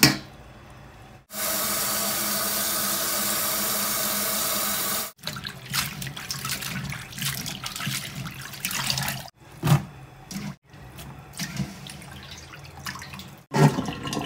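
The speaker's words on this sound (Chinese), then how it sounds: "接下来我们把竹笋洗一下。" Tap water runs steadily into a sink as bamboo shoots are rinsed, a loud continuous rush for a few seconds, then softer splashing and handling sounds with brief pauses as the shoots are washed.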